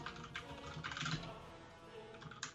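Someone types on a computer keyboard, a brief flurry of soft, uneven clicks and taps close by, with a few louder keystrokes and faint background murmur.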